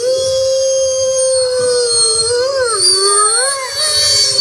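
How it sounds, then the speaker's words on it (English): Several wolves howl together in long, overlapping wavering calls that rise and bend in pitch, loud and close, with a steady chorus running throughout. "Wolves don't let a call go unanswered."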